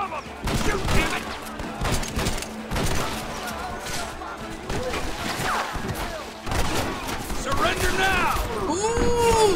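Rapid bursts of gunfire crack back and forth in a Red Dead Redemption shootout, dense and continuous, with voices talking over the shots.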